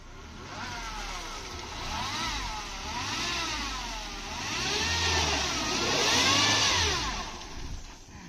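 Car engines rev and accelerate nearby on a waterlogged road, a mid-pitched motor sound rising and falling in several swells, steady and moderately loud with no voices.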